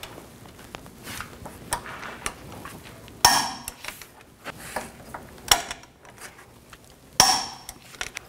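Tightening the bolts on a lower ball joint of a 2007–2014 GMC Sierra 3500 HD with a torque wrench: quiet ratcheting clicks and scattered metallic taps, punctuated by three sharp, bright clanks of tool on steel, spaced a couple of seconds apart.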